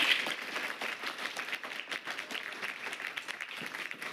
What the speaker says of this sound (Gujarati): તમે લોકો તમારા ગુરુ માટે એકવાર જોરદાર તાળી પાડી દો